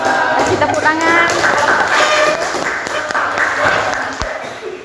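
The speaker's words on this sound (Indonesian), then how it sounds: "Kasih tepuk tangan." Classroom applause after a group's biology presentation, a dense wash of clapping from students filling the room, steady for several seconds with some voices mixed in before tapering off.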